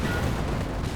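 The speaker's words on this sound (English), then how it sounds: "Grenade's been thrown, it's a good hit there" A grenade going off in a squad-based strategy game, a short, loud, muffled boom with rumbling low-end debris that fills about a second on its own.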